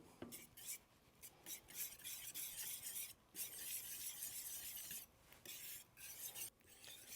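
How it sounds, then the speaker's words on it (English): A spoon stirs the last of the cheese into a bacon rarebit sauce in a pan, giving soft, continuous scraping and swishing strokes in an irregular rhythm. It is quiet and close, with no talking. "just stirring in the last little bit of cheese"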